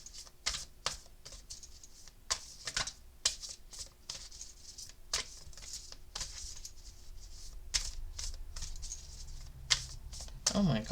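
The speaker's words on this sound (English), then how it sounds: "let me give these another shuffle" A tarot card deck is shuffled close by, giving soft, crisp clicks and flicks in irregular bursts, with a faint steady hum underneath.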